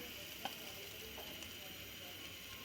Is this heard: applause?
no